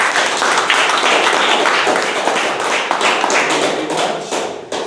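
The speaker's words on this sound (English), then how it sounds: "can we have a huge round of applause for our newest member?" Loud, close applause fills the room at a Toastmasters club meeting, dense rapid clapping from a group lasting about five seconds, with no voices over it.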